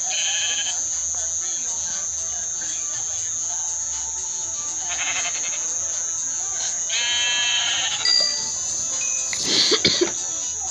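Sheep in a blocky survival video game bleat a few times, short wavering cries rising over a steady game hum and background music, with brief clatter near the end.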